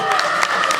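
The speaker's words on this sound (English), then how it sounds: "Clap, yay!" A brewery crowd at a live show claps and cheers as a warm-up, a short dense burst of applause with voices mixed in, close and fairly loud.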